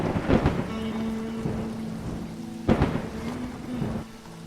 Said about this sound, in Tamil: இந்த மழை வேற விடாம பெய்யுது